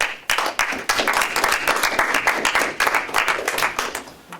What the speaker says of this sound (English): So I applaud all of you for taking it and learning.